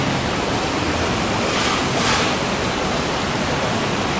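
Water rushes through a physical model of an intake and settling basin, a loud, constant broadband roar like a small waterfall that swells slightly around the middle.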